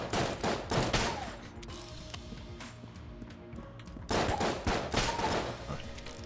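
Gunfire in the video game Enter the Gungeon comes in rapid clustered volleys, strong at the start and again after a short lull, over a steady game background.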